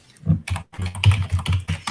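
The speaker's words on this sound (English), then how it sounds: "Sorry about my keyboard." Typing on a computer keyboard during a livestream, bursts of close, loud clicking keystrokes with a short pause, heard alone.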